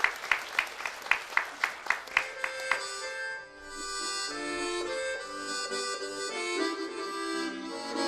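An audience claps in a quick, even rhythm for about three seconds, close and distinct, before a bayan accordion takes over with flowing melodic playing.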